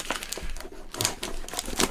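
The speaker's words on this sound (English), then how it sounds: "Okay, I'll just rip this." Plastic mail package from an unboxing being torn open by hand, a few short crinkly rips and crumples close by, with no talking.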